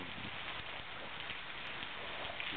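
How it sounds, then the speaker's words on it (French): Heavy rain falls in a steady, dense hiss of drops on surfaces, with no pauses and nothing else standing out above it. "y a beaucoup de pluie aujourd'hui. Beaucoup, beaucoup de pluie."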